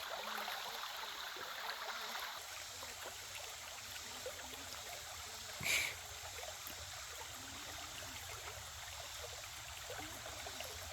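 A small stream runs beside a waterfall trail on the Natchez Trace, a faint, steady trickle and wash of water heard from a short distance, with one brief louder splash midway.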